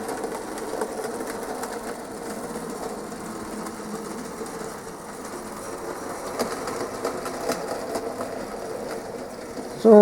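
A Trix DB class E 112 model electric locomotive running on a test track, with a steady low mechanical whir and a faint rolling clatter that continues for the whole stretch.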